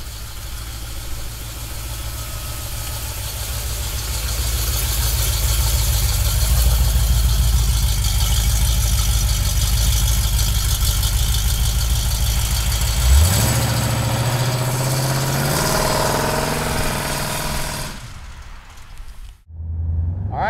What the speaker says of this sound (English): The exhaust on this car is amazing.